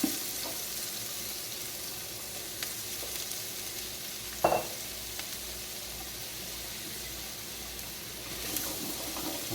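Chopped onion sizzles steadily in a pot as the first step of an albondigas (Mexican meatball soup), with a constant frying hiss and a sharp scrape of the spoon stirring it near the middle.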